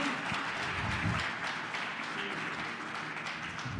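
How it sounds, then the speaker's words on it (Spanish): A church congregation breaks into applause, a dense, steady wash of clapping from many hands that holds at an even level for the whole stretch with no voices rising above it. "Yo le daría un aplauso al Señor."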